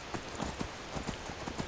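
Horse hooves clip-clop steadily in the Skyrim video game, a soft, even walking rhythm of repeated thuds under a constant low background hiss.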